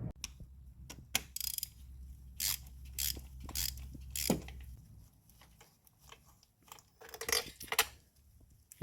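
Ratchet loosening a spark plug on a BMW E46 3 Series inline-six, rapid metallic clicking in short bursts with pauses between, close up over a low engine-bay hum.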